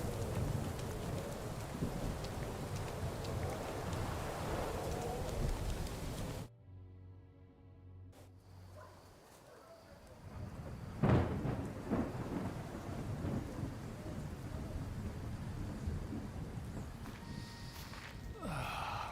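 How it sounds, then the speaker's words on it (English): Storm in the video game Kingdom Come: Deliverance 2, with steady rain and rolling thunder. A heavy rumble comes in first, the sound drops away briefly, then a sharp crack lands mid-way as the downpour continues. "No one is hearing us over this fucking storm."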